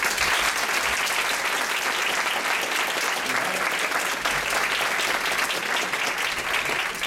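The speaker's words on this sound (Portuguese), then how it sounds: "Por favor, uma salva de palmas." An audience at an evening lecture in Brazil breaks into applause to welcome the speaker, a dense, even wash of clapping from a sizeable crowd that holds steady for several seconds without talk.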